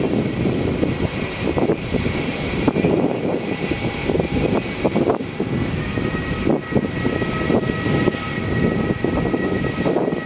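A Qantas Boeing 737 jet taking off at Melbourne Airport gives a loud, steady roar of engine noise that holds unbroken for the whole stretch, with no voices.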